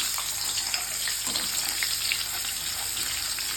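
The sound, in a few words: onions frying lightly in oil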